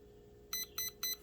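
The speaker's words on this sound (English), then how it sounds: "wait until when it beeps 4 times" A Traxxas RC truck's electronic speed controller in programming mode gives three short, bright electronic beeps at an even rhythm, close and clear against a quiet background.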